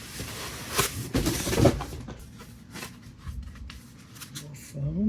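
Packing foam pulled out of an Elegoo Centauri Carbon enclosed CoreXY 3D printer, heard as close rustling, scraping and squeaking of foam against plastic, with a few soft knocks and a brief squeak near the end.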